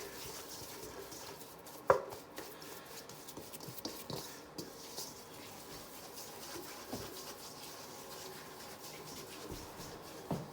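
Spoon scraping and mixing a thick hot buttered rum batter in a bowl, steady soft rubbing strokes with an occasional louder knock, fairly quiet and close, with no talking.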